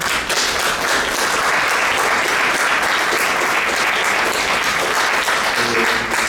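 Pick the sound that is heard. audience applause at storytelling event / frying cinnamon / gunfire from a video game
audience applause at storytelling event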